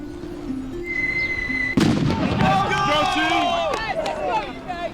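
A single sharp blast goes off during grenade throwing at a military skills competition, breaking through steady outdoor noise. Loud shouting voices follow right after it.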